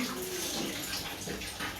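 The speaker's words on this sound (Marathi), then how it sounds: "गरम पाणी काढते" Hot water runs steadily from a tap into a bathroom bucket or tub, filling it for a bath; a continuous, faint rushing flow with no talking.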